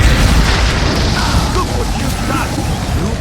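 A Bombarda spell blast in Hogwarts Legacy, a loud, booming explosion with a dense rumbling roar that fills the whole moment and decays only slightly.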